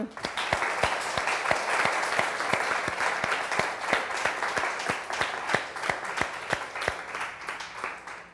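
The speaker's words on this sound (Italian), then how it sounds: "Iniziare intanto con un applauso di benvenuto a tutti." Welcome applause from an audience at an opening talk, a dense, steady wash of many hands clapping loudly and evenly throughout, with no voices over it.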